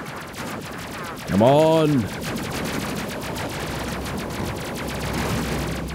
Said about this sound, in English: Missiles, more missiles, more missiles.